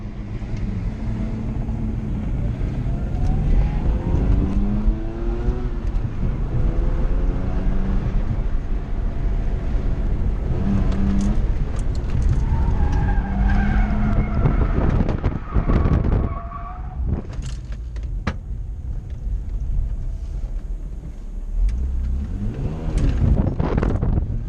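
A Mazda RX8 drifts at a raceway, recorded from inside the cab: a loud engine whine that keeps rising and falling with the revs, plus tyre and wind noise throughout, and a sharp drop in sound partway through.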